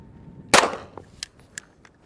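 An AK-47 round strikes a helmet from behind on a test range, one sharp loud crack followed by a few fainter clicks and taps as things settle.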